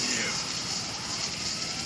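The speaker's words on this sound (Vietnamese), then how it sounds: "Tụi máy bay theo kìa." Aircraft roaring overhead in the GTA V video game, a loud, steady engine drone that fills the whole moment with no letup.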